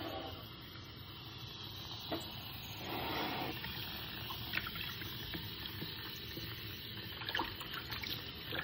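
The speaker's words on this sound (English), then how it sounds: "I just use water, basically. So I just clean the chicken." Tap water runs steadily over raw chicken wings being rinsed in a kitchen sink, a continuous close splashing wash with small shifts in flow and brief clatters, no talking.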